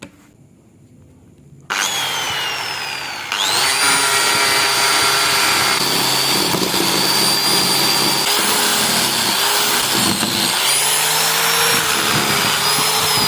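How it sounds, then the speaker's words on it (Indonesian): A homemade sanding block with a rubber tyre pad is rubbed over wood, giving a loud, sustained abrasive rasp that starts after a short quiet pause and grows stronger, running on with shifting strokes and no talking. "Ya kita ratakan lagi menggunakan amplas ya."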